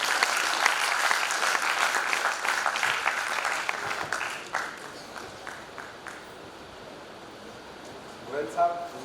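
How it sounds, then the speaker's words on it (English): At a college Golden Jubilee celebration, an audience breaks into loud, dense applause to welcome the chief guest; the clapping tapers off after a few seconds into scattered claps, then a speaker's voice begins near the end. "I would request and applaud तालियों के साथ उनका स्वागत है."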